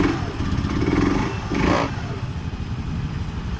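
A rusty, corroded Honda Beat scooter from a coastal area, with a popping exhaust and a suspected ECU and rectifier fault, runs loudly up close, its engine note surging briefly before settling into a steady idle.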